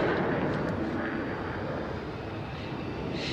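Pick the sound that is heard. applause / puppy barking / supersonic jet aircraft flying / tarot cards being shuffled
supersonic jet aircraft flying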